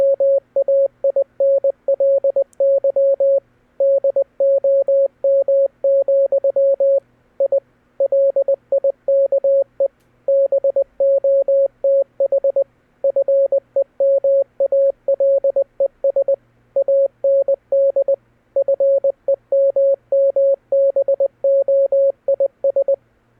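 Morse code beeps played inside a Roblox game: a steady single-pitch tone pulsing in short and long bursts with brief gaps, running continuously and loud with no talking.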